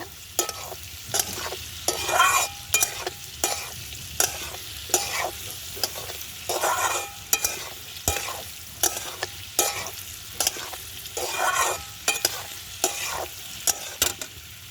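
Papaya pieces fry in hot oil with salt and a little turmeric, a spatula scraping and stirring the pan in a steady rhythm of clattering strokes over a constant close sizzle.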